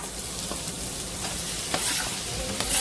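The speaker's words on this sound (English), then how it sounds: "Alright, then we're going to put our veggies in." Vegetables sizzle steadily in a thin coat of olive oil in a pan, a close, continuous frying hiss with faint crackles and occasional stirring scrapes, no talking.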